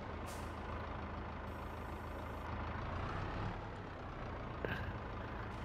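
A truck in Farming Simulator 22 rumbles steadily as it dumps its load into a silo, a constant low engine drone with a faint hiss of air brakes near the end.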